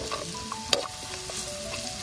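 Chili powder and coriander powder sizzle in oil with browned onion for chicken 65 cooked outdoors in a forest, a soft steady frying hiss with light stirring scrapes and a single sharper clack.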